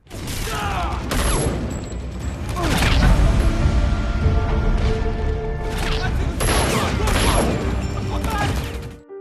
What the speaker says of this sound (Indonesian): Sampai akhirnya adu tembak pun gak dapat terelakkan.